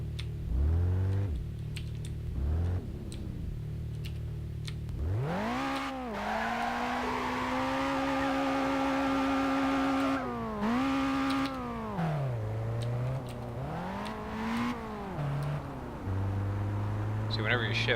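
A powerful white car driven in BeamNG Drive, its engine droning and rising in pitch as it accelerates, dropping at each gear shift, with a person talking over it.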